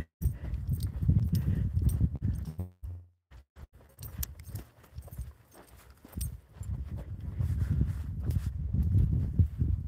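A horse on a trail ride walks with soft, irregular hoof clip-clops close by, with gear jangling and rustling and a brief lull partway through; no talking.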